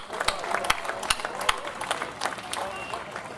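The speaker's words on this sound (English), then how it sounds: "Can we get a round of applause for them as well?" Outdoor crowd applause at Revere Beach for city councilors, scattered claps with a few sharp nearby hand strikes over open-air noise and background voices.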